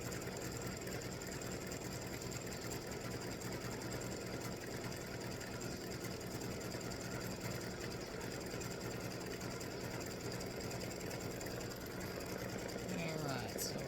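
An embroidery machine satin-stitches around the edge of a Halloween tic-tac-toe board, giving a continuous rapid mechanical chatter at steady level, close and unbroken for the whole stretch.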